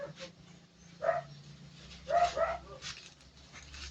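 A dog gives a few short barks and yips at irregular intervals, fairly close, against a quiet background.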